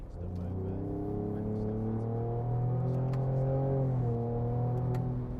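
A 2023 Ford Ranger Raptor pickup truck engine hums and rises steadily in pitch as it accelerates, shifting once partway through, heard from inside the cab.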